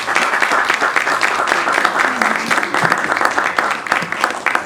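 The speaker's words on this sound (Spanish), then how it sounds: "los recibimos con fuertes aplausos" An audience claps loudly to welcome guests to the head table at a Peruvian poetry book launch. The applause is dense and continuous for several seconds, with individual claps standing out sharply from the wash.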